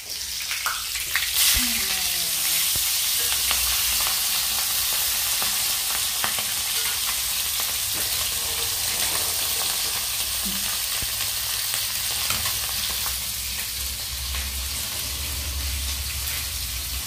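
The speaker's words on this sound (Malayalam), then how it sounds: "ഇപ്പൊ രണ്ടെണ്ണം വറക്കണുള്ളൂ" Fish fries in coconut oil in a pan, giving a steady, close sizzle and crackle that runs throughout, with faint clinks and stirring noises and no talking.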